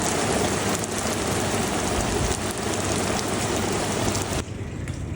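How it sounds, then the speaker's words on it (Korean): Sudden heavy rain pours down at a Maldives resort, a loud, dense steady hiss that fills the scene without a break, easing slightly only in the final second. "아니 비가 갑자기 이렇게 온다고?"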